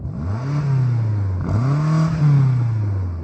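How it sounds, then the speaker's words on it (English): A BMW M5 CS engine revs twice in quick succession to its soft limiter, each rise swelling to a loud, close, sustained roar before falling back, with no talking over it. "Can you rev up the BMW,"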